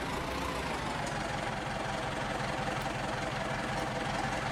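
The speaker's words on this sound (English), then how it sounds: "Might need to pull that tractor forward a little bit more." In Farming Simulator 22, a tractor engine idles with a steady, low, rumbling chug and a knocking throb, holding constant and fairly close throughout with no talk.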